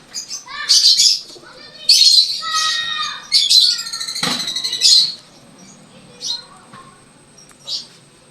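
Pigeons in a loft give short squawking calls in several bursts, close and fairly loud, fading to quieter isolated calls toward the end.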